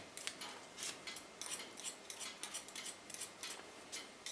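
Scissors snip through hair during a pixie haircut, giving a steady series of crisp, close clicks about two or three per second with no talking.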